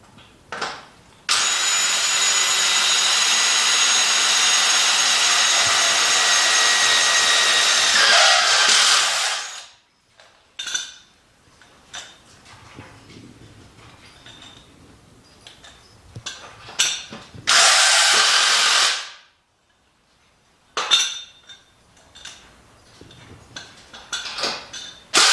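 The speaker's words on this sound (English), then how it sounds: "Start drilling." A power drill bores a hole in a Jeep JK Rubicon while rock sliders are being installed. The drill runs as a loud, close, steady whine for about eight seconds, stops among small clanks and handling noises, then gives a second short burst.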